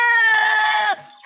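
A single loud, drawn-out Anglo-Nubian goat bleat, nasal and wavering, from a goat stuck in a watering can, cutting off abruptly, followed by a brief quieter tail of sound.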